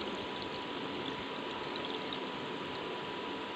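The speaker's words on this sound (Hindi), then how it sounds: "इसके अंदर पानी डालते हैं।" Water poured from close by into a cup holding Limca drink powder, a steady trickling, splashing pour that runs evenly throughout without pause.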